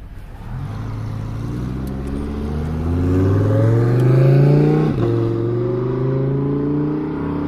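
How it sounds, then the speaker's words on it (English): A Lamborghini Huracan GT sports car engine revs up with a rising, building roar, drops sharply, then settles into a steady loud drone, heard close with no talk. "Lamborghini Huracan."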